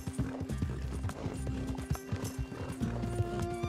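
Hooves pound in a fast, continuous gallop in the video game Red Dead Redemption 2, over a low background rumble, close and steady throughout.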